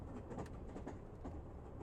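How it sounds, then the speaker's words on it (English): A night train runs along the rails at a distance, its steady low rumble carrying faint, irregular clicks across the track, with no voices present. "This is the most boring night train in the world."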